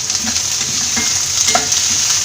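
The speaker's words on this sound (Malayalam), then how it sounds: "ഇതിലേക്ക് കുറച്ച് കറിവേപ്പില കൂടെ ഇട്ട് ചെറുതായിട്ടൊന്ന് വഴറ്റിയെടുക്കാം" Sliced onion and curry leaves sauté in a hot pan for a Kerala thoran, a steady loud sizzle with faint stirring scrapes running through it.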